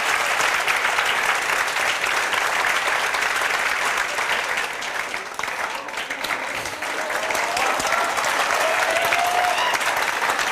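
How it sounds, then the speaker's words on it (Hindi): Loud, sustained applause from a large audience at a Delhi Police final selection ceremony honouring parents, dense and steady throughout with a brief dip midway. "ताली बजाओ इनके लिए जोरदार।"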